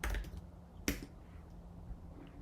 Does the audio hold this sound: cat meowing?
no